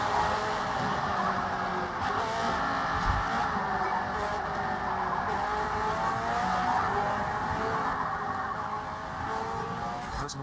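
Engine drone from a car driven in the Forza racing video game, steady and continuous across the clip, with faint tire noise and brief game sound cues. No one speaks.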